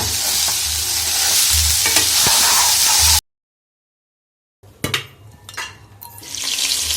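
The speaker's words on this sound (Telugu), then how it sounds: "ఇప్పుడు దీంట్లో పచ్చివాసన పోయే వరకు కొంచెం వేయించుకోవాలి ఆయిల్లో" Meal maker curry stirred and fried in hot oil, a loud sizzle with scraping stir strokes that cuts out into silence, then comes back as a softer, uneven sizzle with sharp clinks and scrapes, all close and with no talking.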